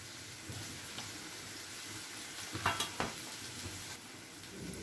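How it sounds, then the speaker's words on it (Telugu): Onions frying in a pan for a prawn and tomato curry, a steady soft sizzle with a few louder stirring scrapes near the middle, fairly quiet and without talk. "ఉల్లిపాయలు వేగుతున్నాయండి"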